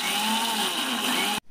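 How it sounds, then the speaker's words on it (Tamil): A kitchen mixer grinder runs steadily, grinding coconut with cow's milk for a cauliflower paya, its loud continuous motor whine filling the space before cutting off abruptly near the end. "தேங்காய் அரைக்கும் போது நம்ம வந்து இன்னைக்கு பசும்பால் விட்டு தான் அரைக்கிறோம்."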